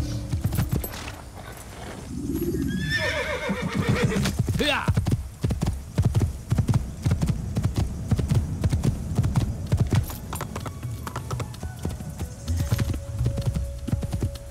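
Horse hooves clip-clopping at a gallop in the Assassin's Creed video game, a steady loud rhythm with a whinny early on, while someone talks over it.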